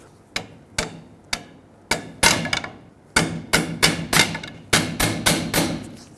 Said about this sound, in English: All you have to do is get a screwdriver or a pry bar and straighten that washer out so that it unlocks it.